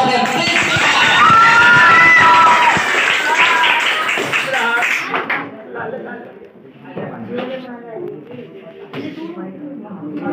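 Audience at a stage award ceremony breaks into loud applause and cheering for several seconds, then it fades and a few voices talk over sparse scattered claps.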